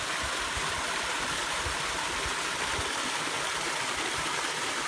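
Constant broadband rush of flowing water in Dombay Creek near Şile, Turkey, a stream feeding Darlık Dam, dense and unbroken, heard close by with no talking.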